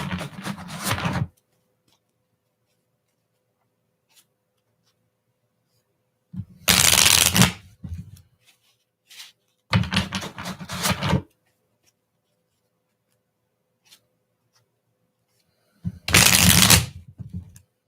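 Tarot cards shuffled by hand in three or four separate bursts of riffling and sliding, each lasting about a second, with quiet pauses between them and no talking.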